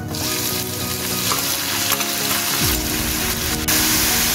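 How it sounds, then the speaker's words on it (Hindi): Grated onions and cumin seeds fry in hot mustard oil for an egg curry, giving a continuous close sizzle with soft stirring and scraping in the pan. "इसे हम गोल्डन ब्राउन होने तक भून लेंगे"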